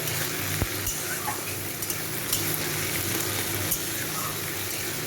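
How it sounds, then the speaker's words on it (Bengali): Green chillies and banana flower fry in a pan with a steady, dense sizzle, with light stirring scrapes and a sharp utensil knock early on; no voices. "এগুলোকে আমি একটু 5-7 মিনিট ধরে ভালো করে ভেজে নেব।"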